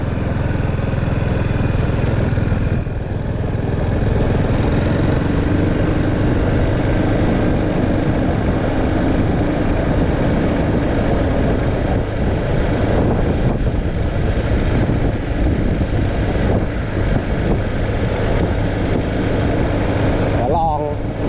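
A motorbike rides steadily through a tree tunnel at night, its engine a continuous loud rumble mixed with wind noise throughout, with a brief dip near the start and faint sounds near the end.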